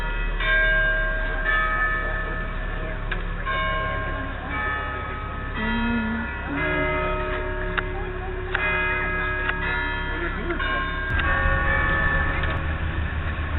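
Church bells peal from St. James Cathedral, an Anglican cathedral in downtown Toronto, striking repeatedly in a steady sequence over a constant low city rumble, moderately distant and clear, with no voices.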